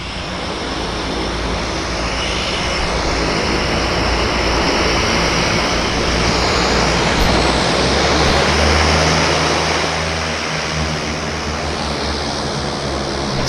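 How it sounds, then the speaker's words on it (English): A propeller airplane on approach to Vancouver Harbour drones loud and steady for over thirteen seconds, its engine roar swelling slightly as it nears, with no voices. "We've got another aircraft on approach."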